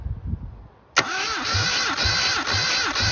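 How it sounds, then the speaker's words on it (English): A Toyota 18RC engine, freshly swapped into a 1972 Celica, cranks on the starter for a compression test. It begins abruptly after a quiet moment with a loud, steady, rhythmic whirring churn and no voices. "let's do a quick compression test on it and see how this engine is"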